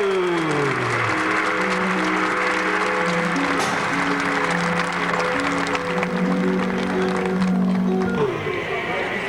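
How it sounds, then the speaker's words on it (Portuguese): A crowd at a rodeo in Gaspar, Brazil applauds steadily throughout, dense clapping under sustained music with held organ-like chords. "Uma salva de palmas à nossa mãe querida do Brasil"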